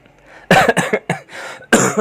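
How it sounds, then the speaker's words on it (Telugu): A person coughs several times in quick bursts, close and fairly loud, with short pauses between the coughs. "కొంచెం దగ్గు వచ్చేస్తుంది"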